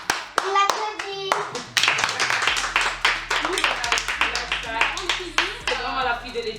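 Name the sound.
people clapping, applause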